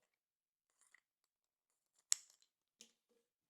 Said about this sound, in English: I'm going to go ahead and snip just a little triangle